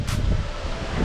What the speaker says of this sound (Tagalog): Lakas na naman yung hangin.